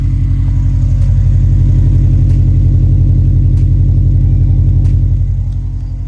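A Subaru STI Type RA fitted with a Cobb titanium exhaust idles with a loud, steady low rumble and a slight growl, close by, a continuous even burble with no talking.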